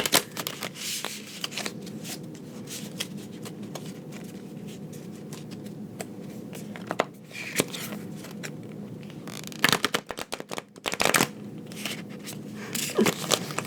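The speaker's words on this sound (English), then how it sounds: "it's much easier to shuffle them like this, just kind of cutting the deck" Thick, stiff tarot cards are shuffled and riffled in repeated bursts of flicking and slapping, close and crisp, with brief pauses between passes.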